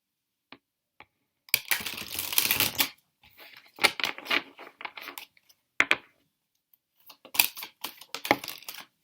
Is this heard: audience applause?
no